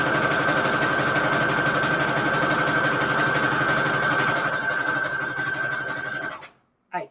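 A sewing machine stitches a zigzag on scraps of Christmas fabric for a junk journal cover, whirring steadily and close for about six seconds before stopping abruptly, followed by a brief rustle.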